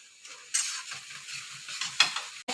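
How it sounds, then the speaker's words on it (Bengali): Spice paste with dal and potato being sautéed in a pan: a steady soft sizzle with repeated scraping stirs and a few metallic clinks of the spoon against the pan, close and fairly quiet. "মশলাটা কষে নেব ভালো করে।"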